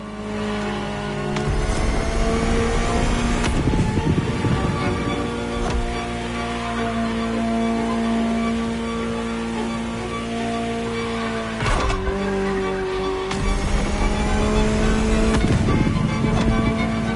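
Ferrari supercar in The Crew Motorfest racing game, the engine droning steadily at speed with a couple of sharp upshifts and surges of revs, loud and close throughout.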